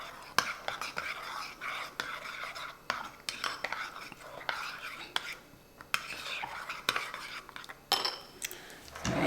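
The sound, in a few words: stirring strawberries and cream drink with spoon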